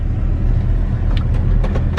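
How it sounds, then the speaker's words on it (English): A heavy project pickup truck being moved with its engine running, a loud close low rumble with a few brief clunks and rattles near the end. "So now I'm moving the truck."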